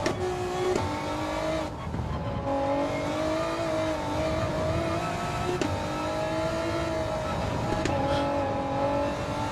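Race car engine in a racing video game, a steady, loud high-revving drone with small pitch dips at gear changes, running continuously from start to finish.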